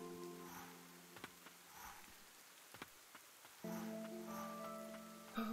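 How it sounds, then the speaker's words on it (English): Poisonous rain in the dark fantasy game Ender Lilies patters softly and steadily, joined by a sustained musical drone, a few sharp percussive hits and a short bright chime near the end. "Run through the poisonous rain, I'm pretty sure, actually."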